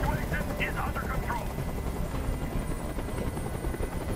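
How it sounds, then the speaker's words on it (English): Helicopter hovering overhead in the video game Detroit: Become Human, a steady loud rotor drone throughout with voices and other game sounds layered over it. "Tell that helicopter to get out of here!"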